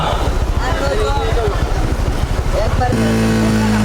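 A Honda CBR motorcycle engine drones at about 6,000 rpm yet fails to gain speed, stuck in first gear in Dhaka; someone talks over it continuously, and the engine tone settles into a steadier, even hum near the end.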